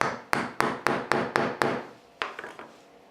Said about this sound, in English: And I'm just going to give it a tap.